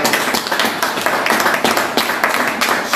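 Church congregation clapping together after a prayer, a close, loud burst of applause with a rough rhythmic beat running for a few seconds.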